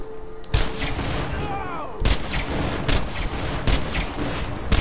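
Gunfire from a gun in the video game Borderlands 2: several loud, sharp shots spaced irregularly, each with a booming tail, over a continuous layer of game background noise.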